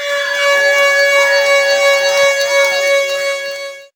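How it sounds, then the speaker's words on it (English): A handheld mini siren wails steadily at close range, loud and unbroken for about four seconds before cutting off abruptly. "Oh, and I also enjoyed setting off my mini sirens for everyone."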